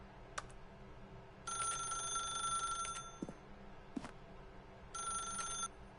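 A telephone rings in The Stanley Parable, with two long, bright, trilling rings separated by a pause and a few soft clicks in between, set against a faint ambient hum.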